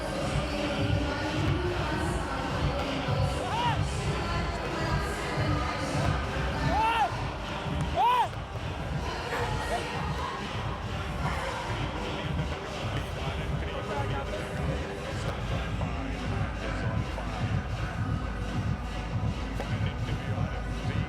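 Large cricket stadium crowd at a charity T20 match, a broad steady roar and murmur of spectators with scattered shouts throughout, with commentary voices talking over it.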